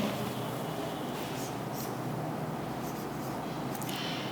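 A definition being handwritten during a Class 9 maths lesson on matrices and determinants, steady close scratching of pen or chalk strokes with short squeaky bursts, no talk.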